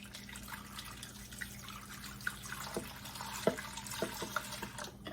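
A liquid casserole mixture pours into a dish, a faint wet trickle and soft splashing with a few small drips and plops over a quiet room background.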